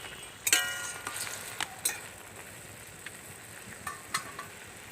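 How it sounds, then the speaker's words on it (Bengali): Bengali biulir dal fritters simmer in nolen gur date-palm jaggery syrup while being stirred: a soft, steady bubbling hiss broken by a few sharp clinks of a spoon against the pan. "এবার যে বড়াগুলো আমি ভেজে রেখেছিলাম সেগুলো ওর মধ্যে দিয়ে দিচ্ছি। আরও কিছুক্ষণ আমি ভালো করে ফুটিয়ে নেব, একটু নেড়ে দেবো"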